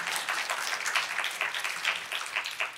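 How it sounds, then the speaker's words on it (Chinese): Church congregation clapping together, a dense steady patter of many hands at moderate distance, fairly quiet and continuous without speech. "拍手把荣耀归给主。"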